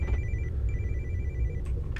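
A telephone rings in two short bursts, a clear electronic ring standing out over the low steady rumble of a train cab engine in a train simulator game.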